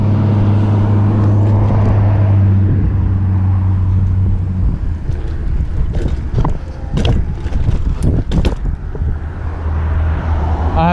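Heavy car traffic in Long Beach: a low, steady engine drone close by gives way to gusty rushing and scattered clicks and knocks from the road.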